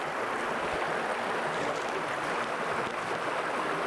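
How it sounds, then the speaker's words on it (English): A river in autumn rushes in a steady, even broadband roar, continuous and fairly close with no pauses or voices. "Listen to that water. It just sounds so calming to the soul."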